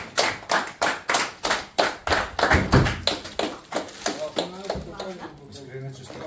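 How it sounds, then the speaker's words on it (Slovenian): A short burst of hand clapping from a small group, quick and rhythmic, fading out after a few seconds as talk resumes. "En aplavz za Maksa, prosim"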